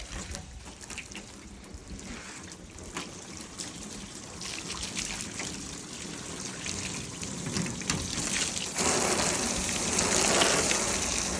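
Water sprays over a car with a hybrid ceramic coating, a steady hiss of rinsing and patter on the paint that grows louder and fuller toward the end.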